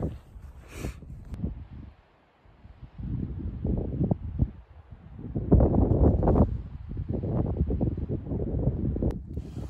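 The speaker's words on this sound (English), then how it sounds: "It's cold with the wind blowing." Cold wind blowing across open New Mexico desert in the Ojito Wilderness, gusty buffeting rumble against the microphone that rises and falls in uneven surges.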